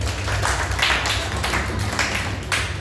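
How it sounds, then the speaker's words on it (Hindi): A church congregation claps together in a rhythmic, pulsing pattern of loud bursts under a steady low hum, with no talking over the clapping. "तो आप सब लोगों के लिए तालियां जो कि ये कर पाए"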